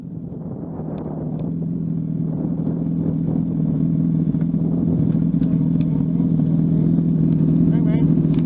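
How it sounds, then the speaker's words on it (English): A motorcycle engine drones loud and close as the rider drops the clutch and takes off, fleeing a police trooper in a high-speed pursuit. The rumble rises and then holds steady at full throttle. "He drops the clutch and takes off to show off for his friends."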